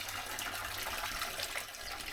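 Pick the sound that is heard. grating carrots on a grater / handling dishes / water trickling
water trickling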